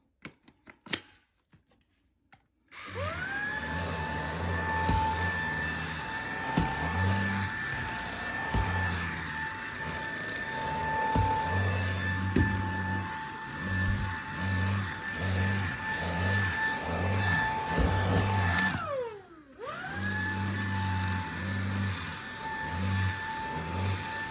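An iRobot H1 cordless handheld vacuum with its upholstery tool works over carpeted stairs, a steady close motor whine with irregular scrubbing bumps, briefly cutting out and restarting near the end.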